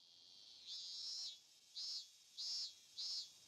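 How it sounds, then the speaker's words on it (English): Cicadas buzzing at a summer campground in a video game: four loud, high, raspy bursts, the first longer and the rest short and evenly spaced, with quiet gaps between. "The cicadas."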